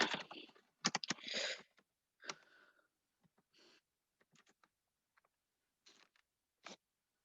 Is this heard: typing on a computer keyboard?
yes